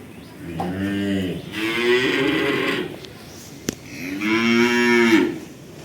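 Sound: calf mooing on a dairy farm

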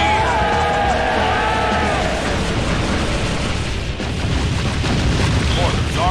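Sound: mortar artillery fire in video game Kingdom Under Fire

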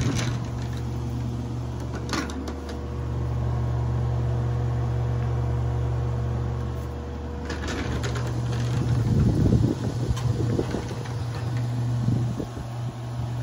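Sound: clattering in 1953 Fedders air conditioner blower motor

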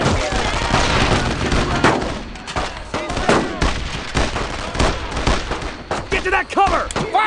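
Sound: gunfire in the video game Brothers in Arms: Road to Hill 30

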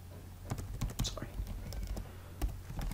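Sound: typing code on a computer keyboard

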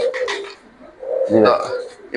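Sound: King pigeons cooing

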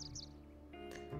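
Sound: birds chirping in video game The Sims 4

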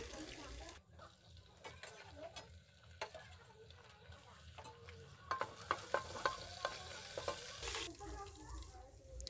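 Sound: crushed garlic and ginger frying with whole spices

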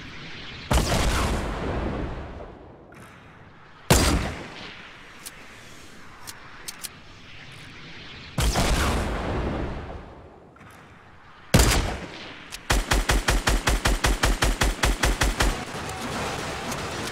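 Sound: rockets hitting a shopping cart in a video game

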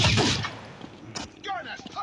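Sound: sniper rifle gunshots in video game Blazing Sniper

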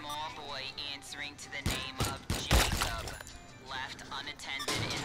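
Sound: gunshots shooting fruit in VR video game Shooty Fruity

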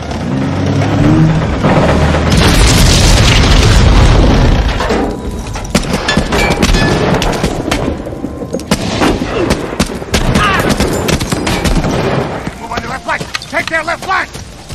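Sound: gunfire and explosions in war film Saving Private Ryan

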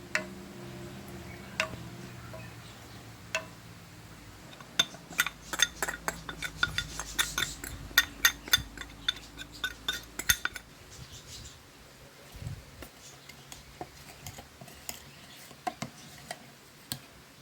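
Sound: stirring cornflour into coconut milk with spoon

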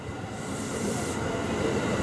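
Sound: 311 series train arriving at Toyohashi Station

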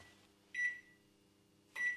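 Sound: microwave oven running, turntable not spinning, melting chocolate

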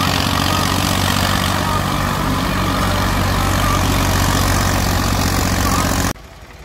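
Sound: Preet 4549 three-cylinder 45 hp tractor engine running

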